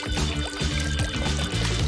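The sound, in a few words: milk being poured into egg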